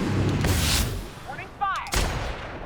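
Gunfire in The Outer Worlds video game: a sharp burst of shots followed by booming impacts and a few ringing, whistling effects, with a voice speaking over the game sounds.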